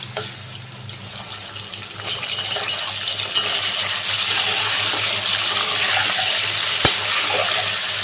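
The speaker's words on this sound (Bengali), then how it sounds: "এখন আমি চিকেনটাকেও ফ্রাই করে নেব খুব হালকা করে" Chicken pieces frying lightly in a pan give off a continuous, fairly loud hiss and spatter that builds slightly over several seconds, heard up close with no talking.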